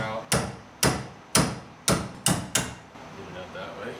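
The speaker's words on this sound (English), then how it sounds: "A lot of times I'll just get a punch, hammer out," Six sharp metal hammer blows on a punch, driving a pin out of a 1969 Chevelle, struck in a steady rhythm about every half second, close and loud, with a quieter tail afterward.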